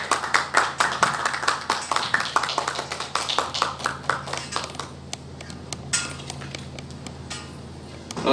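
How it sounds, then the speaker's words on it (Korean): An audience at a literary debate forum in Gunsan welcomes the panelists with applause, brisk clapping that gradually thins out and fades to a few scattered claps and light clinks. "박수로 환영해 주시기 바랍니다"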